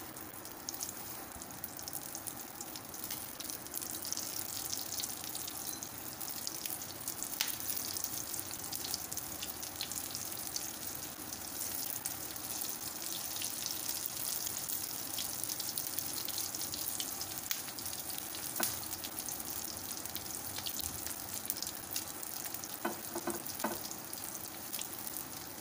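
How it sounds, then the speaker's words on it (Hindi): Beef shami kebab patties fry in oil in a frying pan, a long, even, moderately faint sizzle with a few small crackles and pops. "फ्राई पैन में या तवे में आप इसको तल लें कबाबों को"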